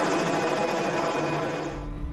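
A military helicopter flying at high altitude over mountainous terrain gives a steady, dense rotor and engine roar that fades slightly toward the end, with no voices.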